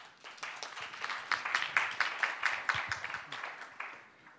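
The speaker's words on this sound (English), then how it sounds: "please welcome them with a warm round of applause" Conference audience at the 13th Asia-Pacific ADR Conference welcomes two session co-moderators with applause, clapping swelling quickly, holding steady, then tapering off near the end.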